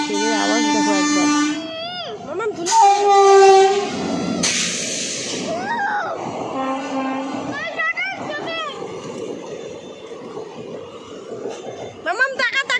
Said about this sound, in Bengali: ট্রেনের আওয়াজ দেখো একবার